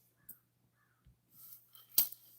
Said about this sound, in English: Dang, those crows are making a lot of noise.